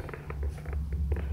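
A low, continuous purr rumbles close by, steady and soft, with faint scattered clicks and rustling on top.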